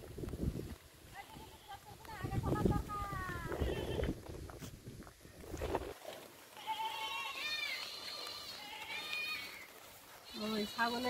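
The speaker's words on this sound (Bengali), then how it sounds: "ওই ছাগলের ডাক শুরু হয়ে গেছে।" Goats bleat in a rainy rural Sundarbans setting, several wavering cries at moderate distance after a stretch of speech, with people talking in the first half.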